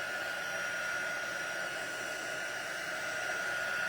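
A heat embossing tool blows hot air over vellum, giving a steady, even whoosh like a small hair dryer, close and moderately quiet with no talking.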